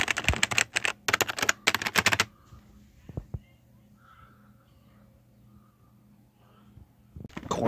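Quick bursts of clicky typing on a cleaned KeyTronic E03600QLPS2-C keyboard, close up, in three clusters at the start and another burst at the end, with quiet room hum in between.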